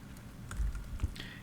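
Several quick keystrokes tap on a computer keyboard, close and fairly quiet, with a couple of slightly heavier key presses and no talking.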